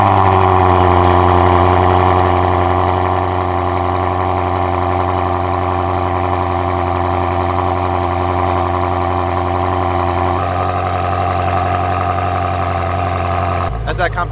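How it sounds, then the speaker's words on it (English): A BMW M car with a competition exhaust muffler, its engine idling steadily with a deep, even drone held close and loud for several seconds, ending in a brief burst near the end. "That's that competition exhaust muffler."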